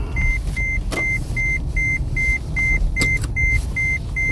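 Seatbelt warning chime in a car at night, a steady run of about eleven evenly spaced beeps over a low engine and road rumble, with a couple of sharp clicks mixed in.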